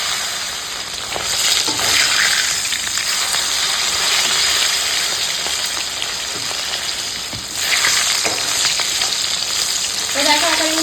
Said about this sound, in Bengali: একইভাবে বাকি মাছগুলোকেও ভেজে নেবো